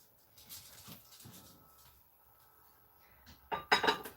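Puppies whimper and yip faintly in a kitchen during a pumpkin spice cookie bake, with soft, scattered cries and a burst of brighter clinking dishes near the end.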